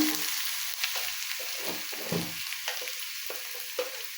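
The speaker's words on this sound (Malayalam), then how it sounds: "കുറച്ച് കരിവേപ്പില ഇടാം. നന്നായി വറന്ന ശേഷം" Curry leaves crackle and sizzle loudly in hot oil for a Kerala vazhakka thoran, a dense steady frying hiss with sharp pops and spatters throughout, close and unbroken, no voices.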